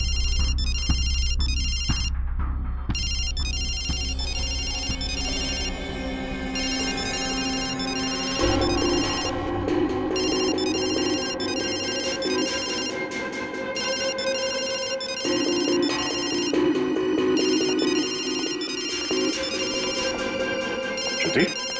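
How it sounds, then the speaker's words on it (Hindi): A mobile phone ringtone plays repeatedly indoors, a melodic electronic ring pattern cycling for many seconds while people talk over it. "पायल का ये फोन, इसका रिंगर"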